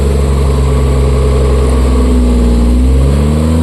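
A Suzuki Multicab engine revs loud and close, its steady drone rising in pitch and climbing through the whole stretch without any talk.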